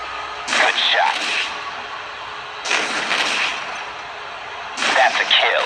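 Gunfire in the shooter game Modern Combat 3: Fallen Nation, three sharp, loud bursts of shots spaced about two seconds apart, each ringing out with a crackling tail over a low background hum.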